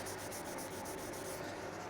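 Quiet, steady rubbing and scraping of an abrasive sponge sanding a plastic surface before painting, close up, with no voices.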